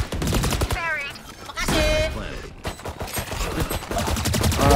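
Gunfire in the tactical shooter game Valorant comes as a run of sharp, rapid shots over several seconds, mixed with players talking.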